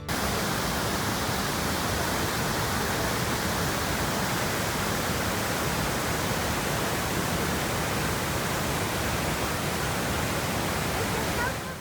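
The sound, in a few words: Gullfoss waterfall in Iceland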